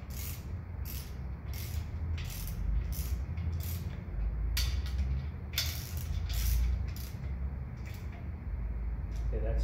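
A ratchet snugs the main cap bolts on a Ford 289 engine block, its quick clicking strokes repeating in bursts close by, with someone talking over the work.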